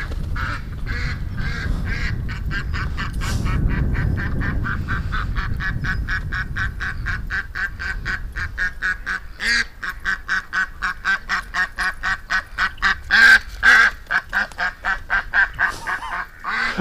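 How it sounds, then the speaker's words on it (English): A female duck quacking loudly and close, first in scattered calls, then in a rapid, rhythmic series of repeated harsh quacks. "And the more she quacks, the more Doug follows her."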